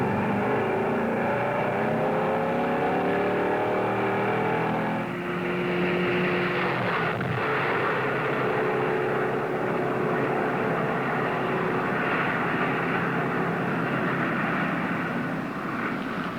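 A 1960 Chrysler 300F accelerates from a standing start over a measured mile on sand, a loud continuous engine roar that shifts in pitch as it gains speed, steady throughout with no voices.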